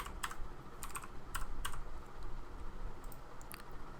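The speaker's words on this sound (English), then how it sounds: "Let's go right over here and type in our third text." Keys clatter on a computer keyboard in short bursts of quick clicks with brief pauses between, close and fairly quiet over a low steady background hum.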